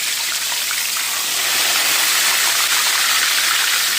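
A chicken fried ribeye steak sizzles in a cast iron pan, giving a loud, steady, hissing frying sound that builds slightly and fills the whole stretch without any talk.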